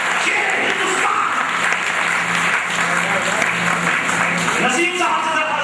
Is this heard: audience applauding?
yes